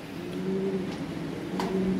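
Lahori pigeons coo softly nearby in a short sequence of low, throaty calls over light background noise.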